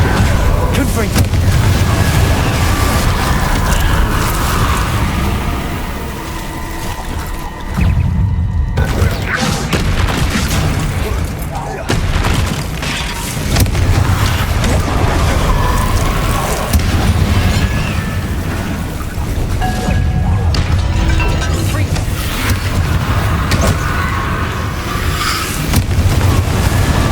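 Repeated Confringo spell explosions in the video game Hogwarts Legacy, booming blasts rolling continuously under dense battle noise, with a voice talking over parts of it.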